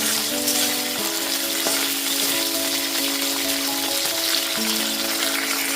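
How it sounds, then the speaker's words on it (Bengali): Broad beans fry in oil in a pan over a medium gas flame, giving a constant close sizzle with steady crackle and a faint tonal hum underneath. "গ্যাসের ফ্লেমটা মিডিয়ামে রেখে সিমগুলোকে ভেজে নিচ্ছি।"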